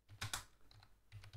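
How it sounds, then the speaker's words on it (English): Keys clatter on a computer keyboard as a terminal command is entered on a Raspberry Pi, a couple of quick loud clusters of clicks, a pause, then another short burst, close and alone. "So open the terminal, type sudo"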